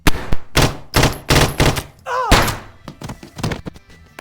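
Gunfire erupts during a robbery shootout in a horror film, with loud repeated shots and thuds in irregular bursts and a brief shout partway through.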